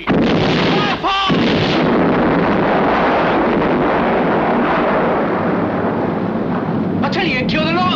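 Torpedoes launch and detonate at sea in a 1968 British sea adventure film, heavy continuous roaring blasts and rushing water filling the scene at full volume, with brief shouted voices near the start and end.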